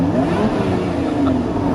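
A Lotus Emira engine with a manual transmission revs briefly on the overrun, a steady mid-pitched engine whir heard close and alone.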